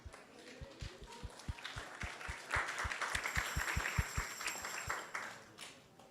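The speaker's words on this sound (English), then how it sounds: "Let's give a big round of applause to everyone." Faint applause rises from an audience at an ISKCON temple gathering, swelling in the middle under a steady low rhythmic thumping, then settling back.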